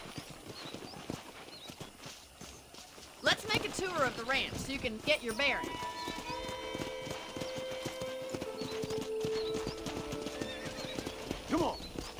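Horse hooves clip-clop in Red Dead Redemption, a steady walking rhythm on a ranch, joined by a whinny, while someone speaks over the footfalls and game music swells underneath.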